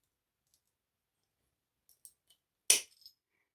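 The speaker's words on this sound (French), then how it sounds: "je vais quand même essayer d'abord de le couper comme ça" A piece of mosaic tile is cut for a slate mosaic: a few faint small clicks, then one sharp, close snap as the piece gives way, then a quiet tick, otherwise silent.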